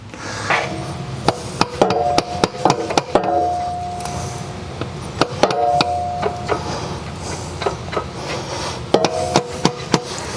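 Repeated sharp metallic hammer strikes in irregular bursts, some ringing briefly, close by, as a CV axle on a 2012 Honda is hammered onto its splines, with workshop clatter between blows and no talking.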